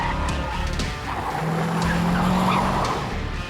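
A fast car races and skids on a track tied to NASCAR-style driving, its engine droning steadily beneath a loud, sustained tyre skid, close and without talk.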